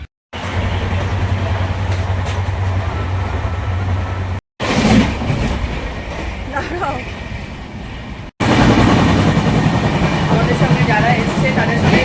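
A moving train heard from inside a carriage, with a loud continuous rumble of wheels on rails, some rattling, and a few abrupt cuts between sections.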